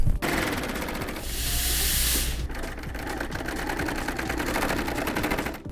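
Serger sewing machine stitching fabric for a tote bag, a steady rapid mechanical whir running continuously at close range with a brief hissing burst partway through.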